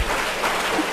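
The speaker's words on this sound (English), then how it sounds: "Clap your hands 3 times" Short burst of audience hand clapping from a crowd at a youth talkathon event, a dense continuous patter filling the moment rather than separate distinct claps.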